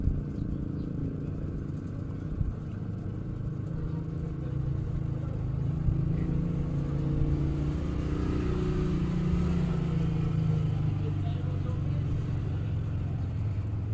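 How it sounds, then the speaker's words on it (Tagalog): Motorcycles ride past in a steady stream, their engines a low rumbling drone that swells and fades moderately near, with a person talking softly over the traffic noise. "Daghan kang nangaging motor anak no."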